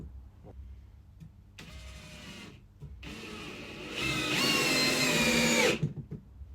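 Ryobi One+ HP RPD18C cordless drill set to first gear with maximum torque, driving a large screw, its motor whirring in rising bursts that get louder and higher as the screw is driven, with brief pauses in between.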